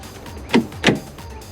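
Door lock actuator on a BMW E39 M5 door locking: two quick mechanical whirring clunks about a third of a second apart, close and fairly loud over a quiet background hum.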